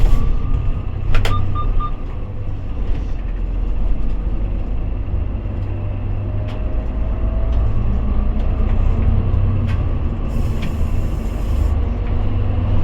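A bus drives along a road heading toward the airport, its engine and road rumble holding a steady low drone throughout, with a few faint clicks and rattles over it and no talking.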